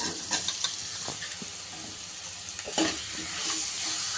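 A potato masala mixture is stirred and fried in a pan, with a steady close sizzle and hiss under soft scraping strokes that swell slightly toward the end; no one speaks.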